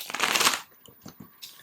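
Playing cards being shuffled during a tarot reading, a loud dense riffle for about half a second followed by a few faint soft card taps and rustles.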